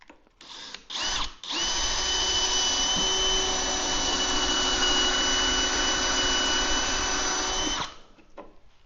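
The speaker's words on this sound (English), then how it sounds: "we're gonna go all the way to the bottom of the drill bit" A power drill drilling into wood spins up in short bursts, then runs at a steady high whine for several seconds before stopping.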